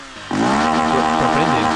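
A Yamaha XJ6 motorcycle engine is held high against the rev limiter, a loud, steady buzzing drone that jumps up sharply after a brief lower idle and then holds, close and alone.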